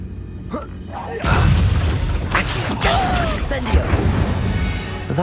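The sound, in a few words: Incendio fire spell blast in video game Hogwarts Legacy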